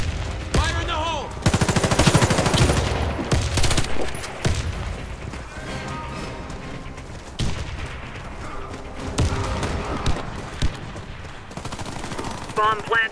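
Automatic and rifle gunfire from the video game Warface, sustained loud bursts and rapid volleys across the whole stretch with booming impacts, game voices calling out beneath the shooting.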